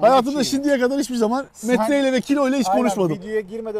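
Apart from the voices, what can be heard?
No everyday noise stands out behind the speech.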